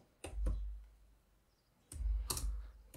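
Keystrokes on a computer keyboard sound as two short clusters of close, quiet taps, with a pause between them and the last press landing as Enter.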